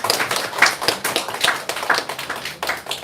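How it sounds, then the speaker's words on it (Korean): A church congregation claps in praise to God, a loose, moderately near round of applause with distinct hand claps repeating steadily throughout. "우리 살아계신 하나님께 영광의 박수 올려드리겠습니다"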